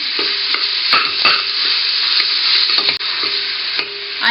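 Half a kilogram of ground beef frying and being stirred in a tall pot for lasagna sauce, a loud, steady broadband sizzle with scraping stirs throughout.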